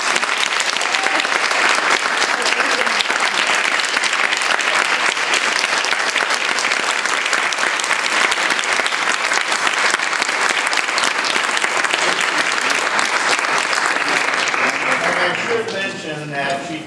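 An audience applauds continuously and loudly after a thesis presentation, a dense steady clapping that fades out near the end.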